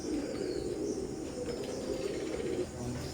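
Oman bloodline Teddy pigeons give low, continuous cooing close by, a soft throaty murmur that runs unbroken with faint background noise.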